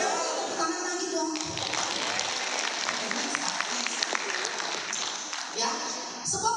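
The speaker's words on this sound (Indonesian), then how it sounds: "Tepuk tangan lagi dong." An audience at an Indonesian talk on personality and blood type gives another round of applause, a bright rattle of clapping mixed with voices in the room.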